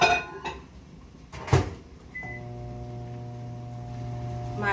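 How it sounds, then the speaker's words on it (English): A microwave oven runs steadily, heating a measuring cup of water while canning bruschetta and banana peppers: clinks and a door-like thump at first, then a short beep and a constant low hum with a tonal buzz, close and alone. "I'm gonna go ahead and heat my measuring cup up for 3 minutes."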